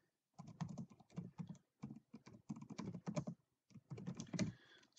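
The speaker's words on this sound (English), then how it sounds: "I can start typing in this rich editor." Rapid keystrokes clatter on a computer keyboard in bursts separated by short pauses, close and fairly quiet, with no voices.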